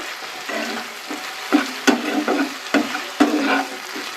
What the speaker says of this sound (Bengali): আবারও একটু শটে করব